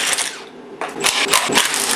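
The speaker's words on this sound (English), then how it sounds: "There's a bunch of 8mm bolts that go all the way around." Bolts being loosened on the valve cover of a Ford Duratec 2.0 hybrid engine during a teardown, with close, sharp metallic tool clicks and rattling bursts after a brief quiet pause.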